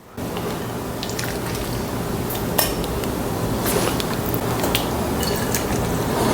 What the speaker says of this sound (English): We're just gonna bathe them in this coconut, ginger, scallion infused broth.